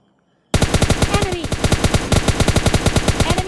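Rapid automatic gunfire in the video game PUBG erupts abruptly after a brief quiet moment, then continues as a loud, close, sustained burst of evenly spaced shots with a faint voice in the background.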